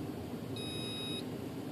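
A single steady electronic beep, clear but moderately quiet, sounds for about half a second from an electronic speed controller on an RC glider being programmed, over a low constant hiss.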